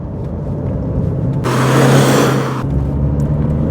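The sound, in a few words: 206bhp Skoda Yeti accelerating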